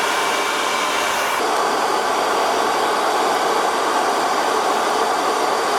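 Mazda FC RX7 with a custom cold air intake driving at low speed, a steady loud rushing engine and intake roar that holds constant throughout with no talk.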